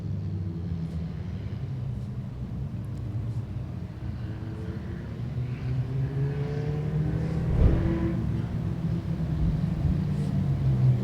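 A race car revs and accelerates at Claremont Motorsports Park, a steady engine rumble that builds and surges as the car pulls away, with no talk over it.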